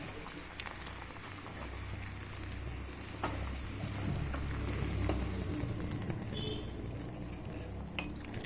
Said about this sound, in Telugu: ఈ విధంగా మరగాలి మంచిగా.